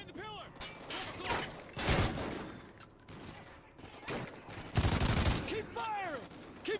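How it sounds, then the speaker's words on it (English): Gunfire in the video game Call of Duty Ghosts, heavy bursts of automatic fire and loud shots mixed with mechanical clatter, with shouting voices in between. "Keep firing!"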